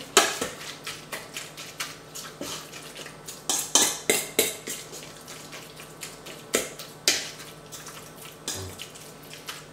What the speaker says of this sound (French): on continue à écraser pour bien émietter cette préparation